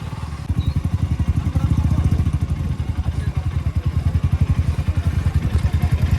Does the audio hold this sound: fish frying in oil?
no